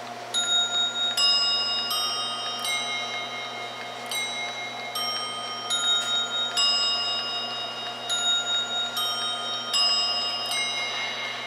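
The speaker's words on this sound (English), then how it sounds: "it will chime for the 12 notes, which is the 15 till" A mechanical chime clock plays its quarter-hour melody, twelve notes for quarter to the hour, in clear ringing bell tones that follow one another in a slow, steady sequence, close and fairly loud, each note ringing on over the next.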